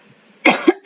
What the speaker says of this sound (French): je vais tousser un petit peu.